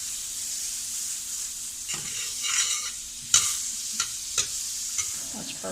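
Butter sizzling in a hot pan while pancake batter is being prepared, a steady bright hiss throughout with a few soft knocks and scrapes of a utensil against the pan.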